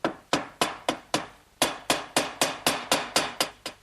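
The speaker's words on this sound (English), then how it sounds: "And then drive those in through my pre-drilled holes." Glued 1/4-inch hardwood dowels are driven into pre-drilled holes with a hammer, about a dozen sharp, close, evenly paced blows with a brief pause partway through.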